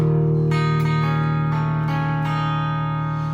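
An electric guitar plays a clean, steady arpeggio measure, plucked notes ringing over a held low tone, moderately loud and alone with no voices.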